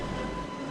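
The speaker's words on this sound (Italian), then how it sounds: "Prendo tram 2 nella sotterranea fermata" Tram on line 2 at an underground stop in Budapest, a steady low rumble with a faint hum from the rails, filling the short moment without any voices.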